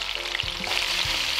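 Margarine melts and sizzles in a frying pan, a steady bright hiss close by with a couple of soft low knocks from the pan, no voices.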